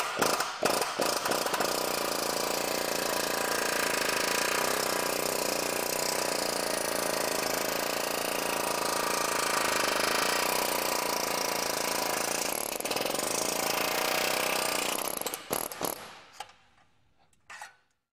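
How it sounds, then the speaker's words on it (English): Spot welds on an aftermarket Ford radiator support are pulled apart in a destruction test, a continuous loud grinding, rattling mechanical noise lasting many seconds before stopping abruptly with a few final clanks. "Let's go ahead and do a destruction test on it to determine how good the spot welds are."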